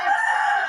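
A rooster crows close and loud, one sustained, strained note lasting under a second, with no talking.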